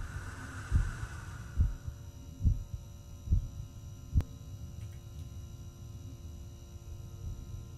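A heartbeat thumps in a backrooms-style video game, five slow, distinct, fairly loud beats evenly spaced over a low steady hum, then fading into the hum alone.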